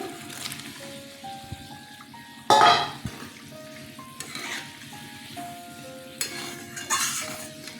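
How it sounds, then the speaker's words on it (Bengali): Prawns dropped into a boiling Bengali oil-and-chili prawn curry with green chilies, giving a bubbling simmer with a few splashy, clattering bursts over steady background music. "ঝোল ফুটে গেছে মাছ ছেড়ে দিলাম"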